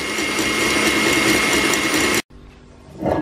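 An electric mixer whisking meringue until it cools, a steady loud mechanical whir that cuts off abruptly, followed by quieter rustling handling noise.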